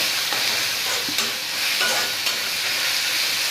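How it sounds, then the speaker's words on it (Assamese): Close, continuous sizzling of panch phoron and whole cumin frying in a hot pan, with a few scraping stirs of a utensil mixed in. "ভালদৰে লৰাই দিম"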